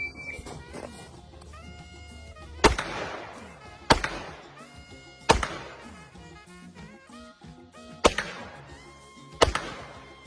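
Pistol gunshots during an FBI handgun qualification at a shooting range: five sharp, loud reports spaced roughly one to one and a half seconds apart, each with a short ringing decay, and no talking.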